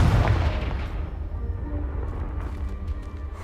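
A Confringo blasting spell goes off in a Harry Potter video game, a loud low boom at the start that rumbles and decays into a sustained rumble.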